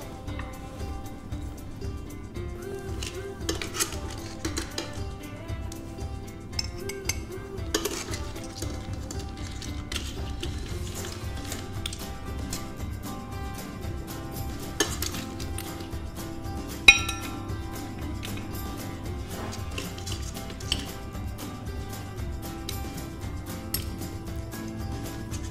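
A metal cataplana pan is closed and its clamps tightened, producing scattered metallic clinks and clanks over a quiet background, with one sharper knock partway through and no talk.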